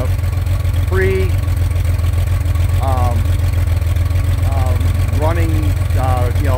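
A 2.9 engine fitted with race carburetors idles loud and close with a steady, lumpy low throb, while someone talks over it in short bursts.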